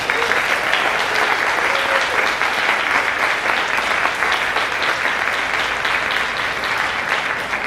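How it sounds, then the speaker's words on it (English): Sustained crowd applause at a school graduation ceremony, a dense, even wash of many hands clapping at steady loudness throughout, with no pauses or voices standing out. "let's give her another round of applause"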